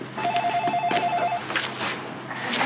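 A telephone rings with a repeating electronic warble, a rapid pulsing tone for about a second, then a few softer clicks and handset noises close up, with no speech.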